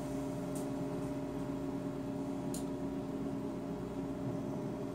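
A steady, low mechanical hum from a microwave oven running nearby, with a constant tone throughout and a couple of faint high ticks.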